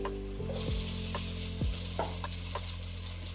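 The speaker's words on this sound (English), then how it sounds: "So we're gonna add the rice now." Rice being stir-fried with caramelized vegetables in a hot pan gives a steady sizzle, with a few scraping stirs of the spatula against the metal.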